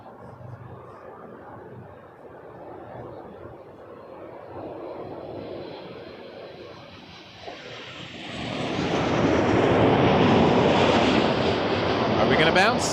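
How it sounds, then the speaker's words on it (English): A WestJet Boeing 737 Max 8, flight 2415 from Cancun, lands at Toronto Pearson, its quiet distant rumble growing into a loud roar as it touches down and rolls out. A voice talks over the start. "Max 8, WestJet 2415 from Cancun in next"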